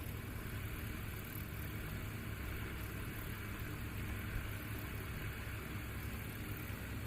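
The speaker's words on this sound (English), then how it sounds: "Edward Boyd from Appleton, Tennessee, idling on the line." A STOL airplane engine idles on the line at Patriot Airpark in Oklahoma, a steady low broadband drone heard from a distance, fairly faint and unchanging.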